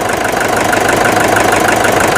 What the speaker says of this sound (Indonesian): Mesin stasionernya seenak ini grek.